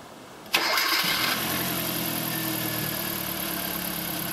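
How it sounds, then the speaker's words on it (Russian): A 2010 Hyundai i20 with a 1.4 G4FA petrol engine cranks and starts after a brief quiet moment, catching with a loud burst that settles into a steady, close idle. "Запуск двигателя."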